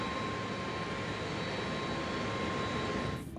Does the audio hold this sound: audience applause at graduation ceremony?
no